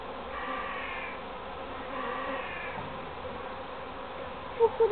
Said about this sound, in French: Beaucoup d'abeilles.